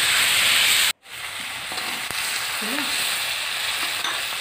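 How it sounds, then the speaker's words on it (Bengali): Steady loud sizzle of desi (country) chicken pieces frying in spice paste in a pan, cooked picnic style with potatoes to follow, after a sudden brief cut, with faint stirring scrapes. "মাংসটা দেওয়া হয়ে গেছে, এবার খুব ভালোভাবে কষে নেব।"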